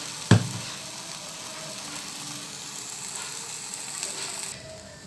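Chicken keema fries in a pan with ginger garlic paste as it is stirred: a sharp utensil clank up front, then a steady, close sizzle with faint scraping, no voices.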